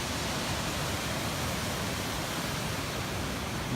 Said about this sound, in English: This waterfall looks amazing.